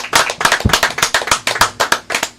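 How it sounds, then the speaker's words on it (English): Studio audience applause at the close of a talk show episode, a dense burst of many hands clapping loudly and steadily for a couple of seconds with no talking. "Can we have another round of applause, please?"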